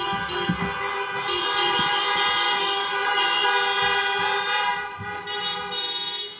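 Several car horns honk together in cheering for a university convocation, a sustained, overlapping blare, fairly close, with a brief pause before more honking.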